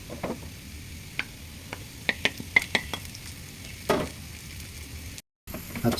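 Sliced onion goes into a pan of frying garlic, ginger and cumin, a soft steady sizzle broken by sharp scraping clicks of a spoon stirring against the pan.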